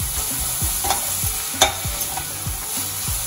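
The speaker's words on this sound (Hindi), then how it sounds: "अच्छे से मिक्स करेंगे, थोड़ी देर यूं ही चलाते रहेंगे।" Capsicum and spring onions are stirred in a hot pan for a honey chilli potato dish, with a steady sizzle and repeated scraping strokes of a spatula at a quick, even rhythm, close up and without speech.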